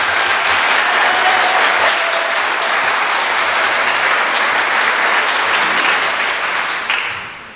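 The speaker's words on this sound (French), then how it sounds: "Je crois que ça mérite une belle main d'applaudissements pour leur participation aux fêtes 150e." Audience at a closing ceremony for 150th-anniversary festivities gives a long, loud, sustained round of clapping that thins slightly toward the end.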